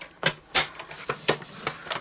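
Paper being scored at half-inch intervals for a traveller's notebook dashboard, heard as about seven short, crisp scraping strokes in an uneven rhythm, close and fairly quiet.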